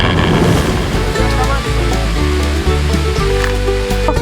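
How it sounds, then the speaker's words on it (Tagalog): A steady, loud rush of falling water from a small roadside waterfall at Bessang Pass in Cervantes, Ilocos Sur, continuous and close, with a low tonal hum running underneath. "Kung makikita nyo dito sa part na to, merong parang waterfalls."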